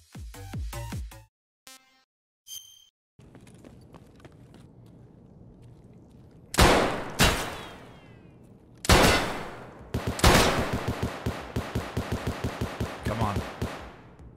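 Gunfire in Escape From Tarkov, with sharp single shots, a few loud isolated cracks, then a rapid burst of automatic fire near the end, with quieter gaps and background noise in between.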